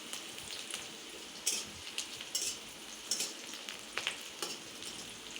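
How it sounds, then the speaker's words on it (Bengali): Onions fry in a pan for a village-style Bengali mutton kosha, a steady close sizzle with frequent crackling pops and spatters throughout. "প্রথমে পেঁয়াজটা হালকা ব্রাউন রং করে নেব"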